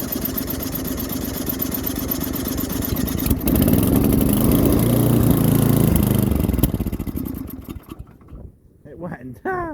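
An engine cold starting on choke after cranking catches and runs roughly, its loud, uneven idle rising briefly before stumbling and dying away, with people talking over it.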